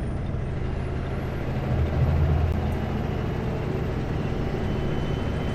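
Driving over snowy Paulson Winter Pass, a vehicle's engine hums steadily from inside the cabin, with a brief swell in its drone during an upshift partway through.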